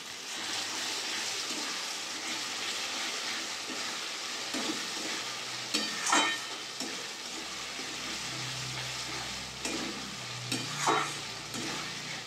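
Yogurt being stirred into spice masala frying in oil for chicken curry makes a continuous loud sizzle, broken by a couple of scraping spoon strokes, with no talking.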